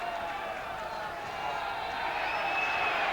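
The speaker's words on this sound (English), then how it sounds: "The chant goes up from the French crowd" A French crowd chants at a 1990 France v Australia rugby test match, a steady, sustained roar of many voices filling the whole stretch at an even, moderate level.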